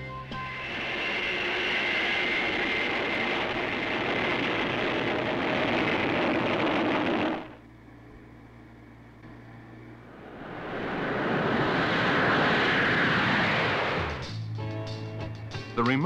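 Engine of a remotely piloted target aircraft, a loud broadband roar that runs steadily, breaks off into a quieter low hum for a few seconds, then swells back up before fading out.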